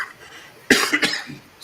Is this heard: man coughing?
yes